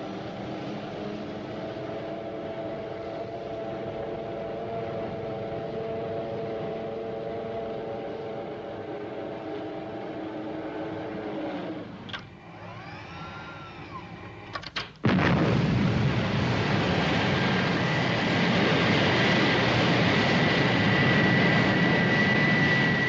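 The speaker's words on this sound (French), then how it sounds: "Tu as la piste libre, décolle." Airplane taking off from a runway: a steady engine drone for about twelve seconds, a brief lull with a rising whine, then a sudden loud surge of broadband roar that holds to the end, with no talk.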